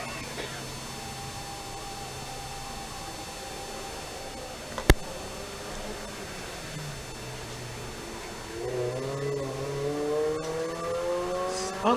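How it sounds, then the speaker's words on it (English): A late-model Mazda MX-5 driven hard at the Leyburn sprint event: a steady engine drone heard from a distance, with a sharp click partway through, then rising revs climbing over the final few seconds as the car accelerates. "Late model Mazda MX-5"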